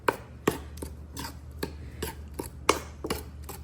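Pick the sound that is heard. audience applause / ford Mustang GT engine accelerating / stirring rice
stirring rice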